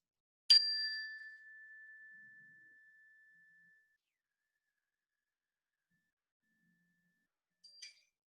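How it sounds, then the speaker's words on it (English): A single bright chime is struck and rings out with a long, slowly fading tone, then a second faint chime sounds briefly near the end, both alone in silence, calling a Sunday service to quiet. "the chimes will call us to silence"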